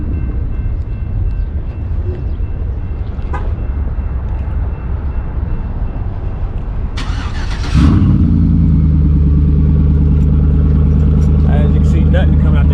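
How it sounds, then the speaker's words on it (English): A 2009 Chevy Silverado with its exhaust disconnected is remote-started after a stretch of background noise, the engine catching abruptly and settling into a loud, raw, steady idle; a person talks in the background. "I'm gonna do a automatic start real quick"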